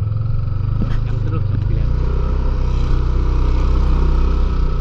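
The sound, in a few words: motorcycle being ridden in to park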